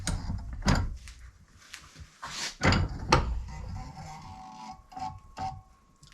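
A bench vise being tightened on a Remington 1100 shotgun part in a workshop gives a series of close metallic clunks and scraping knocks, spaced irregularly over several seconds with no speech.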